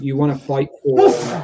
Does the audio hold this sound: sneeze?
yes